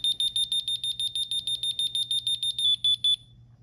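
A Honeywell Vista 15P/20P alarm panel sounding its exit delay after being armed in away mode: a rapid, regular series of loud high-pitched beeps, about fifteen quick pulses ending in a few longer tones, with a low hum beneath.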